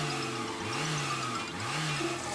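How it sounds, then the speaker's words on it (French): Cartoon car engine revving in place without moving off, a mid-pitched motor rising and falling in two or three swelling revs, close and steady with no talk over it. "Hé, Cassis, tu démarres ou quoi? C'est que ma voiture n'avance plus."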